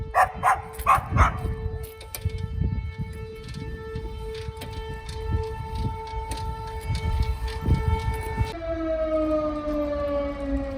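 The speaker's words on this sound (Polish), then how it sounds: "może jakiś test syreny" A loud wailing civil defense siren, sounding in a test, drones at a steady pitch and then slides downward, while a dog barks repeatedly nearby.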